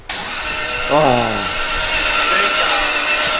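A starter motor cranks a freshly built 1000HP 2JZ engine with its spark plugs removed, spinning it over steadily in a sustained mechanical whir, with a brief exclamation at the start.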